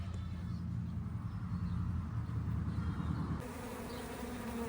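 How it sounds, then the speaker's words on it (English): Bees buzz steadily around a hive in April, a dense, continuous drone close by that holds throughout, with a slight drop in level near the end. "so there's still bees up here"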